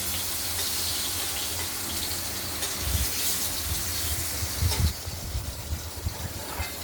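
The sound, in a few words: potatoes frying in a pan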